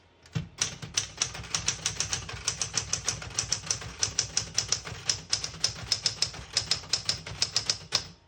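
Keys strike steadily on a 1968 Smith-Corona Super Sterling portable typewriter in seafoam green, a fast, even run of crisp clacks lasting several seconds, close and alone with no voices.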